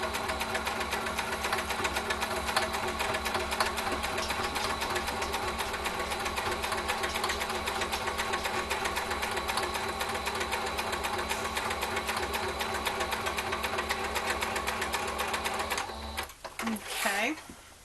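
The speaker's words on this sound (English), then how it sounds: "That's what this little line on my sewing machine is." A sewing machine runs steadily, stitching a quarter-inch seam in fabric for Christmas cutlery holders. Its fast mechanical whir is loud and even, then stops near the end.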